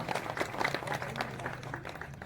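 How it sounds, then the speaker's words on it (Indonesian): A crowd of volunteers claps at a gathering, steady applause filling the room for a couple of seconds, with a little talk mixed in. "Tepuk tangan untuk teman-teman relawan sendiri"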